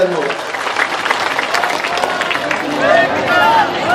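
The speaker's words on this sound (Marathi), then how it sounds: "जोरदार टाळ्या मारा सर्व शेतकरी मंडळी" A crowd of farmers at a political rally breaks into applause, a dense wash of clapping that grows toward the end, mixed with a murmur of voices and shouting.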